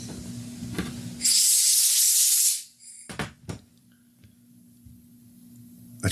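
Compressed air blasts through a Briggs-engined Lawn-Boy commercial mower carburetor in one loud, steady hiss lasting about a second and a half, then cuts off, followed by a few knocks and handling clatter in a quiet shop.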